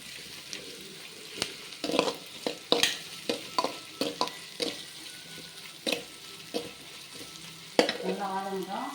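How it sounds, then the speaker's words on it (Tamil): Onions sauté in a pan for egg pasta, a soft sizzle under repeated clacking stirs of a spoon against the pan, with a brief faint scraping near the end. "நல்லா வதங்கட்டும்."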